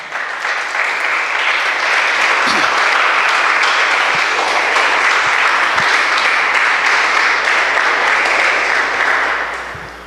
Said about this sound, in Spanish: Dele un aplauso al Señor.